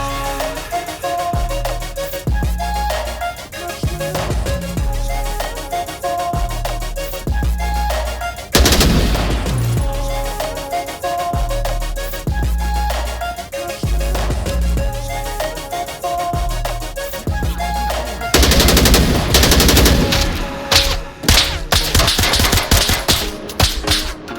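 Loud gunfire from the VR shooter game Onward, with an AK-12 in use, mixes sharp single shots and rapid automatic bursts over background music, growing denser and more intense near the end.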